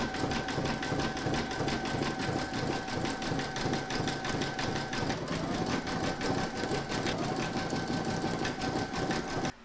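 An embroidery machine stitches in-the-hoop bunting, a steady fast rhythmic needle clatter with a mechanical hum, loud and close throughout without speech.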